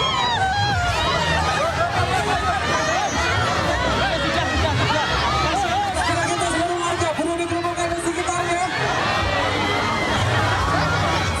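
A huge, rowdy crowd of supporters scrambles for T-shirts tossed from a campaign procession, a dense roar of shouting, chatter and excited cries close around, continuous and unbroken.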